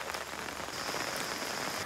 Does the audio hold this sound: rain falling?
yes